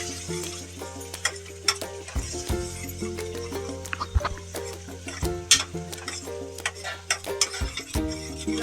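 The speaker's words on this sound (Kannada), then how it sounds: "ಚೆನ್ನಾಗಿ ಫ್ರೈ ಮಾಡ್ಕೋಬೇಕು." Egg masala gravy sizzling and frying in a pan while a spoon stirs and scrapes through it, with busy clinks and a steady hiss, layered over a constant background hum and music-like tones.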